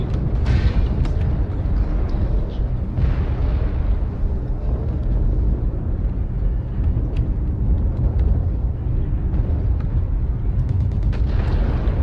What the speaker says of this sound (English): Artillery strike.